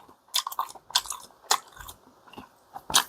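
A person chews store-bought Korean fish cake (oden), with several close, soft bites and wet chewing bursts separated by short pauses.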